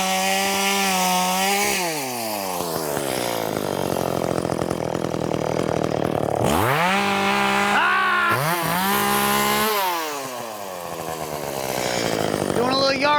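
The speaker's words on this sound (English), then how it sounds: "Sometimes when you're writing a song, you gotta step away from it for a second and chainsaw some shit!" A chainsaw runs continuously during outdoor yard work, its loud engine note rising and falling as it revs through repeated cutting passes, with a brief dip in power around the tenth second.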